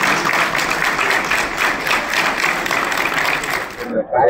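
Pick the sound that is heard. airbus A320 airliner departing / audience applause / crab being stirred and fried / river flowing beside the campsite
audience applause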